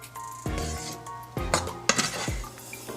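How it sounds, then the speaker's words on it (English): Mushrooms, garlic and herbs are being sautéed in a pan, with a few distinct scraping and clinking stir strokes of a utensil against the pan over a low, steady background. "I'm just going to continue to give this a nice saute."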